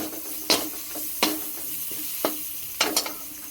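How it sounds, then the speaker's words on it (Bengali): A spoon scrapes and stirs food with salt in a frying pan under a soft steady sizzle, with several distinct clacks against the pan at irregular intervals. "পরিমাণ মতো লবণ দিয়ে দেব। নেড়ে নেব।"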